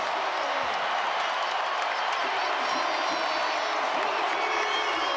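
Basketball arena crowd at a Dallas Mavericks vs Denver Nuggets game roaring after a Nuggets buzzer-beater, dense continuous cheering and clapping with whoops, loud and sustained throughout.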